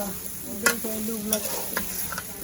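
Goat meat is stirred in a frying pan with a spoon. Several distinct metallic scrapes and knocks sit over a faint background sizzle, close and moderately quiet.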